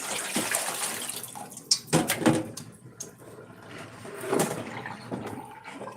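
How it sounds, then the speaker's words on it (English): A meat package is rinsed under a running kitchen tap, with splashing water and a few louder knocks and rustles of the package close by. "Rinse it out, throw it in the trash,"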